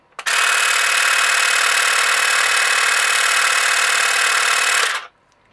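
A Tekhmann TCGT-8/I20 cordless grass trimmer motor runs on battery power as a loud, steady, high whine close by. It starts abruptly, holds for about five seconds, then stops, with no voices.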